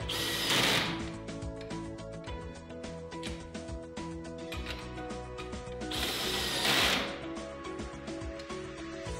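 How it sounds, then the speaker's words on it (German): A power tool tightens hammer-head bolts to 20 newton-metres while mounting a base rail, giving a loud, steady mechanical ratcheting whir with two sharper bursts about six seconds apart. "Dann werden lediglich die Hammerkopfschrauben mit 20 Newtonmeter angezogen."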